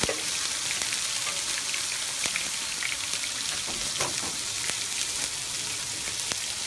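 Burger and bacon fry on a griddle with a loud, steady, crackling sizzle throughout, close and unbroken, with scattered pops and spits.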